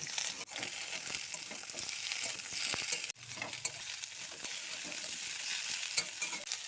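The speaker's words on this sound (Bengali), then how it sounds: "তখন তার মধ্যে সবজিগুলো দিয়ে দিচ্ছি আমি আলু দিয়ে দিচ্ছে ডিমগুলো দিয়ে দিচ্ছে দিয়ে আবার ভালো করে ভেজে নিচ্ছি" Onions, potatoes and eggs fry and get stirred in a pan while spinach curry is cooked, giving a continuous close sizzle broken by repeated scraping stirs, with no talking.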